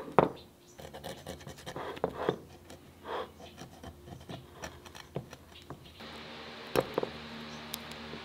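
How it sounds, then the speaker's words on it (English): Sharp blade trimming back material on a Honda CBR/VFR800 hybrid motorcycle project, faint scratchy scraping strokes in irregular bursts, close and quiet with no talking. "just come along with a sharp blade and just trim it back."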